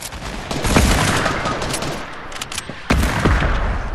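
Gunfire in the Fortnite video game, a dense fusillade of rapid shots and bursts running throughout, loud and close with sharp sharper cracks near the start and again toward the end, no talk over it.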